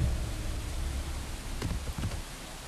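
Steady hiss of rainfall in the video game Thief, with a few soft thuds and rustles, fairly loud and continuous, no voices.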